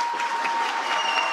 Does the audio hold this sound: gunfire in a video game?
no